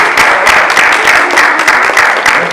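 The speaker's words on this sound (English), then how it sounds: "Let's give a round of applause to the" An audience claps at a community crime and safety event in Snellville, producing loud, continuous applause with a few distinct individual claps standing out from the even wash.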